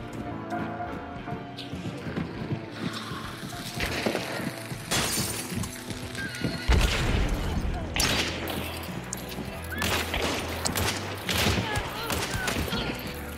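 Gunfire rings out in the video game Hunt: Showdown, with several loud, sharp shots and crashing bursts coming at irregular intervals, some close and some farther off, alongside occasional voices.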